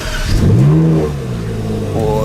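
A Ferrari 458 engine cold-starts and revs, a loud rising engine note that sweeps up, settles into a throbbing idle, then climbs again close by.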